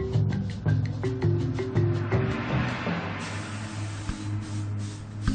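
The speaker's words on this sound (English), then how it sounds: "They sprayed grandfather's room and his body with chlorine to destroy the Ebola germs." Chlorine disinfectant is sprayed through a nozzle in a short series of hissing bursts, close by, over a faint tonal background during Ebola decontamination of a room.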